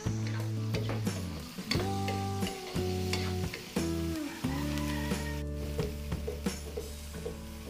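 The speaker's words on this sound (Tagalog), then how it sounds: "Luto-lutuin lang po natin yung bawang." Garlic sautés in a pan with a constant close sizzle, while repeated stirring scrapes and clinks come in short, regular bursts.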